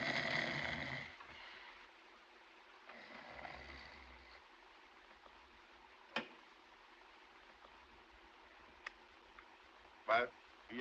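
A man snores in a scene from the 1931 German film M, a faint, drawn-out rasp under voices, with a few sharp clicks and ticks scattered through the quiet room.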